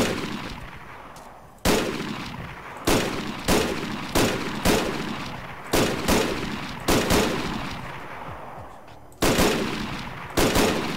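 Sniper rifle shots ring out in the video game Arma III, about ten loud, sharp reports spaced roughly a second apart, each followed by a long echoing decay, with a brief pause before the last few.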